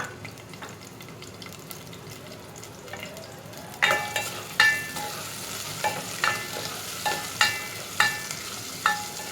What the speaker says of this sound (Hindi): अब मैं इसमें प्याज शामिल करूँगी और उसे गोल्डन ब्राउन करूँगी।